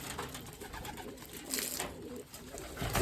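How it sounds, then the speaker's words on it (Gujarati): Pigeons coo softly in a loft, low murmuring calls repeating under a busy background of rustles and bird movement, fairly faint. "તો બધા કબૂતર તો પાણી પીવા માટે અંદર છે"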